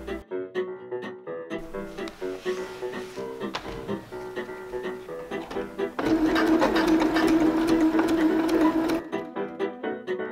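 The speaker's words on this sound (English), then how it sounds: "Then I'll use this buckle and I will sew one side to it." A sewing machine stitches webbing onto a buckle for a goat buck apron, running in loud rattling bursts with short pauses, heard close up.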